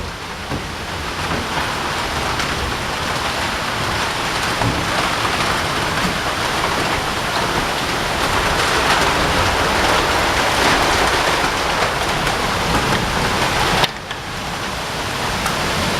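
Heavy hailstorm with pounding rain in Mae Taeng, Chiang Mai, hailstones about fingertip size; a dense, steady roar of rain and hail drumming on surfaces continues throughout, loud and close, with a brief dip near the end.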